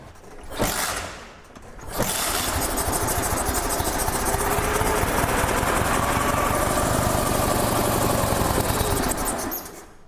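An old German motorcycle engine catches after a kick start on a little fuel poured into the intake, a brief stutter giving way to a loud, steady rattling idle that runs for several seconds before dying away.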